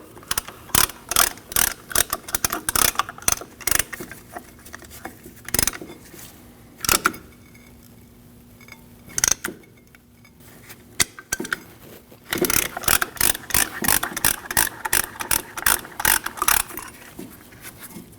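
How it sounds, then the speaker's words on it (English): Caliper pistons on a 2003-2008 Subaru Forester are pushed back with a tool, giving repeated sharp metallic clicks and ratcheting bursts, close and fairly loud, with a quieter pause midway. "Now you want to compress your pistons back into your caliper."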